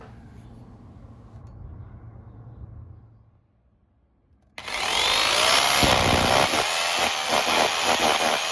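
Power drill boring screw holes into an outside wall to mount a garden tap, starting abruptly after a quiet pause and then whirring loudly and steadily at close range.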